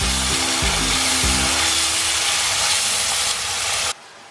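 Tomato sauce sizzles loudly in a hot pan while being stirred, a constant close hiss with a few low knocks of the spoon early on before it suddenly drops away.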